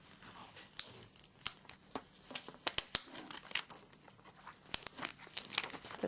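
Heat transfer vinyl peeled from its backing sheet during weeding of T-shirt letters, a close, dry crinkling and tearing run of sharp crackles and snaps, irregular and steady throughout with no talk.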